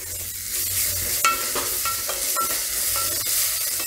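Ginger frying in oil with peanuts and cumin for kapuriya, a continuous close sizzle broken by several light scraping stirs of a spoon against the pan.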